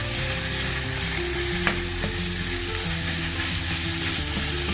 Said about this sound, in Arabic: راح اضيف عليه اللحم المفروم مالتي تقريبا 300 الى 400 غرام مو اكثر، وحمصه ويا اللحم ويا البصل والتوابل مالتي.